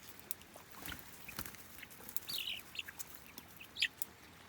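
Chicks in a backyard brood setting give a few faint, scattered high chirps and clucks over a quiet, noisy background, with a slightly louder burst near the end.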